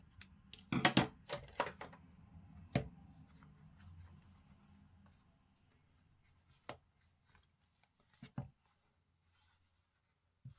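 Scissors snip yarn free from a Dollar Tree pom-pom maker in a cluster of quick close cuts, followed by quieter handling and a few isolated soft snips in a quiet room.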